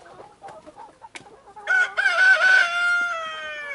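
Roosters crow loudly and close by, one long rising and held cock-a-doodle-doo following a few softer clucks and scattered farmyard noises, with no talk over it.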